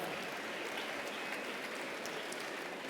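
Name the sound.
audience applause in support of Raif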